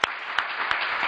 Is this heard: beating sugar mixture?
no